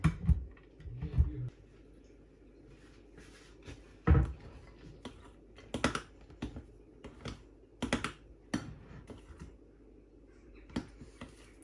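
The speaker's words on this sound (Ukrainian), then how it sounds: "Якось там нарізаємо шоколад." A knife chops milk chocolate on a board in a series of irregular, sharp, close taps and knocks, spaced with short pauses and a couple of quicker clusters.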